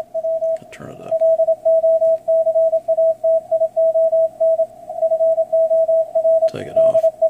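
An Icom IC-7300 radio sends a clear, loud Morse code CW sidetone, a single steady pitch keyed in quick dots and dashes, with two brief bursts of handling noise.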